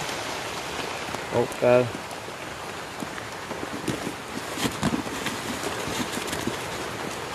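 Rain falling with wind at an outdoor snake-trapping spot, a steady hiss of drops on surfaces throughout, with someone speaking briefly and a short tonal sound near the start.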